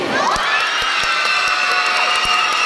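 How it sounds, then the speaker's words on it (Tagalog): A large crowd at a gay beauty pageant's national costume segment cheers and shouts continuously at close range, with scattered claps and whoops running throughout. "Pwede niyo po bang pagsamahin ang inyong palakpakan at hiyawan, kaunti?"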